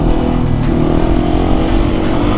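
A KTM Supermoto 701 motorcycle engine held in second gear during a wheelie on a crowned road, a loud, steady, close droning roar with no break.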